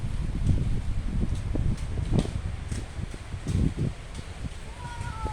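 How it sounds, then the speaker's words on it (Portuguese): Strong wind blowing hard around a house, a steady broadband rush with low gusty rumbles, heard close and fairly loud throughout, while voices call out intermittently. "O vento tá muito forte, menino."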